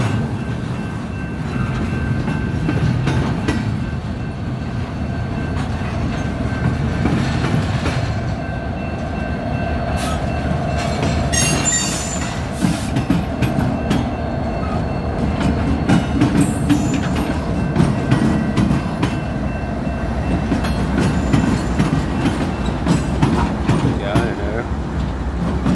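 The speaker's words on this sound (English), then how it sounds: "And there goes the choo-choo." A train rolls past on the rails with a steady rumbling roar and faint clicking of wheels over joints, close and sustained throughout, with someone talking over it.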